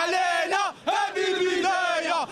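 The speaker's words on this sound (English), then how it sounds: "Listen to the crowd." A large Moroccan crowd celebrating the national football team's World Cup success chants loudly in unison, with rhythmic shouted bursts and brief pauses between them.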